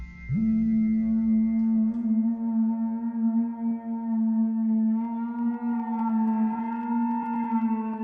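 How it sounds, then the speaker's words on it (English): A sustained synthesizer tone with rich harmonics holds steady for several seconds, its pitch wavering slightly as it is adjusted, loud and alone. "here, for example, is an attempt to find the proper synth tone"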